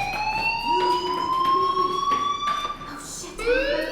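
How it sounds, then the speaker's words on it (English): A fire alarm in Life Is Strange rings steadily as a loud, continuous electronic tone with harmonics, a slight pitch shift and a short break near the end. "Hey, do you hear that fire alarm? That means you should be outside."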